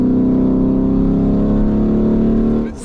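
A Mansory Venatus Lamborghini Urus engine hums loudly and steadily while driving on winding roads, a sustained drone that eases off at the end with no talk.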